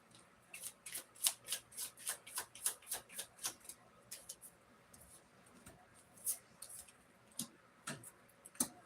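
Tarot cards being shuffled close up, a run of quick crisp riffling snaps and flicks in bursts, fairly quiet, with softer card handling afterward.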